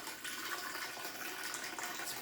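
Cold coffee drink being poured, a steady, close liquid splash and gurgle that keeps up throughout without a break.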